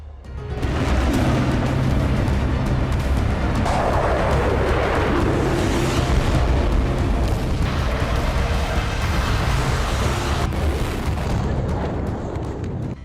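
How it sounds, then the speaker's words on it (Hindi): Explosions from Russian strikes on Ukraine roar in a loud, continuous rumble of booms and crackling blasts that hold steady for several seconds before easing off, with no voices over them. "यूक्रेन पर रूस के धरती फाड़ धमाके जारी"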